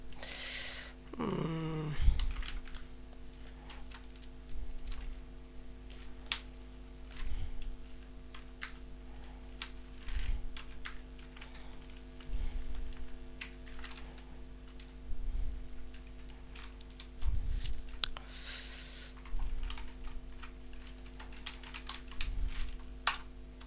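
Steady keystrokes on a computer keyboard during web development coding work, a run of close clicks and taps spread evenly throughout with no talking.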